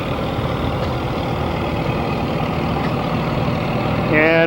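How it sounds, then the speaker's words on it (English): A 1948 Ford tractor engine idles at a threshermen's show, giving a steady, close, low rumble throughout with a faint higher whine near the end. "And from Newell, Iowa, Ethan Lindsay with his 1948 Ford"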